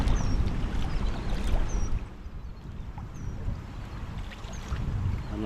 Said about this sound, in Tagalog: Malakas yung agos no?